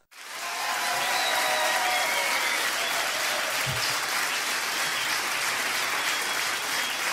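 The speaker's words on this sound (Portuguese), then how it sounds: "Eu sei que vocês estão fartos de bater palmas" Sustained, dense applause from a comedy show audience, swelling in within the first half second and holding steady and loud for several seconds, with no voices standing out.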